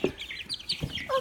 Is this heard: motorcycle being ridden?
no